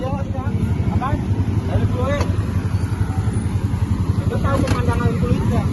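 A supermoto dirt bike engine drones and pulses steadily at close range while people talk over it throughout.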